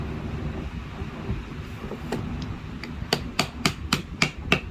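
Someone hammers a wooden toy truck together while building it, with glue already applied. Soft knocks give way to a quickening run of about six sharp, close strikes over steady background noise.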